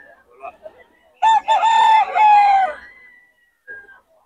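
A gamecock rooster crows once, close and loud, a single drawn-out call with a few quieter clucks and faint voices before and after.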